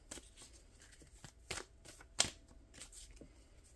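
Tarot cards are shuffled by hand in soft, close riffles and slaps, several quick papery bursts spaced irregularly over a quiet room.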